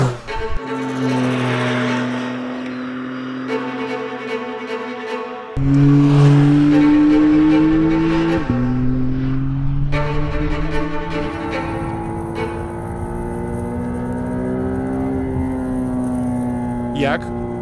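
A McLaren Artura revs up hard, its engine note climbing and holding at high pitch with sharp shifts in tone, loud and close, while someone speaks over it at times.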